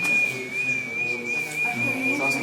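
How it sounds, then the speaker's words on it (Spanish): Ancient whistles, including one made of bone, blown inside a museum: a single steady, piercing high whistle tone held throughout with slight wavering, close and loud, with faint room murmur beneath. "Son silbatos. Sí, los silbatos."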